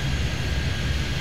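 An airliner landing at San Francisco in the game Airport Madness 3D gives a steady, loud jet engine roar with a broad rumble, constant and unbroken through the short moment, with no talk.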